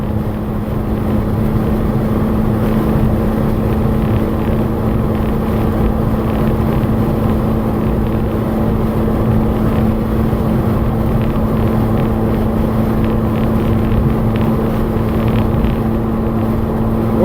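Volkswagen Golf GTI MKV engine droning steadily in fifth gear while cruising, a continuous loud hum with road and wind rumble throughout, no voices.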